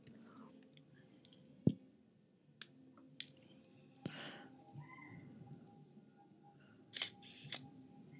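Several sharp clicks of a Canon camera's shutter as photos are taken, scattered singly across a quiet indoor background, with a close double click near the end.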